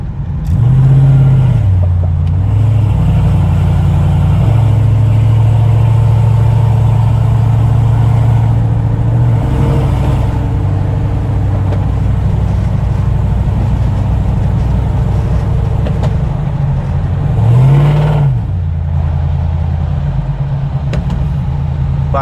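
A cammed 5.3 race truck with full bolt-ons idles with a loud, lumpy, continuous rumble up close, with a couple of brief revs rising and falling while it does donuts.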